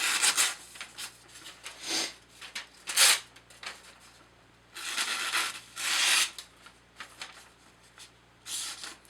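Zero Tolerance 0560 ELMAX knife slicing cardboard, a series of dry scraping, rasping cuts in short bursts with quiet pauses between, close and moderately faint, no talk.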